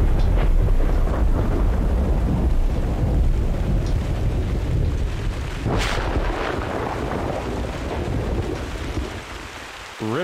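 A thunderstorm in The Hunter: Call of the Wild roars with heavy rain and deep rolling thunder, loud and continuous, with a sharp crack of thunder about midway.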